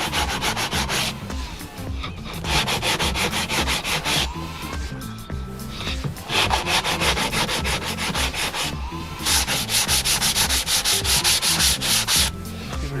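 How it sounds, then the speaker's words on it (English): Small wooden squares get their edges sanded by hand in brisk, rhythmic back-and-forth strokes, loud and close, arriving in several bursts separated by brief pauses. "you cut your little squares, you can just give it a sand down,"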